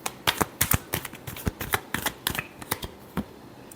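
Tarot cards shuffled by hand in a quick run of crisp riffling flicks and taps, close and clear, with no talk over them.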